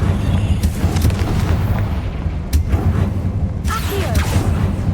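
In Hogwarts Legacy, the Confringo blasting spell goes off with rolling, booming explosions and sharp crackling bursts that keep a dense, loud rumble going for several seconds.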